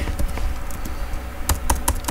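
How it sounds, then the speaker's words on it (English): Fingers tap quickly and unevenly on a computer keyboard, with close, crisp key clicks and a few louder strikes toward the end. "I'm typing in random stuff on the computer"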